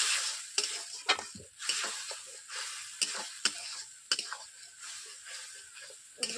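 A potato, broccoli and carrot curry sizzles in a wok after a little water is added, a soft steady hiss broken by sharp clicks and scrapes of stirring at irregular intervals.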